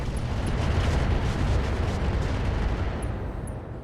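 AX autocannon rounds fire in the RogueTech mech combat game, a dense, loud, continuous booming roar of overlapping blasts that fades slightly at the end, with no talking.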